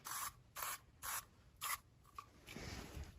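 Lemon Pledge aerosol sprayed onto a boot: four short, crisp spray bursts in an even rhythm, then a few faint spits and handling noise, close and quiet with no talk.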